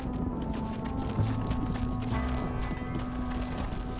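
A herd of horses trots in a video-game ranch scene, a dense, steady patter of hooves clip-clopping over a low rumble, with a faint whinny in the mix.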